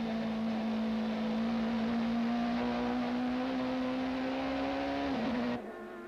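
A 1995 South African Super Touring Championship car, among them a Rothmans Audi, drones at Kyalami with a loud, steady high engine note that rises slightly, then drops away sharply.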